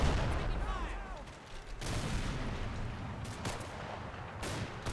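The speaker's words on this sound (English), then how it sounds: "Oh, that was a bloody firefight." Gunfire in a firefight in the WWII game Combat Mission: Battle for Normandy, with sustained crackling volleys and booming shots over a continuous rumble, including sharp louder bursts.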